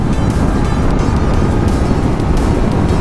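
A Yamaha MT25 motorcycle runs at high speed, probably in fifth gear, with a loud, steady, wind-blasted roar that buries any distinct engine note and holds evenly throughout.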